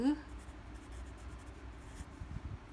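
A pen or pencil scratches faintly across scratch paper as multiplication is worked out by hand, a soft rasping under low background noise.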